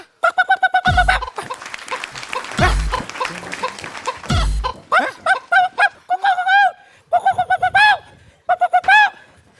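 A chicken clucks in repeated bursts of short, pitched calls, loud and close, with a few dull low thumps in between.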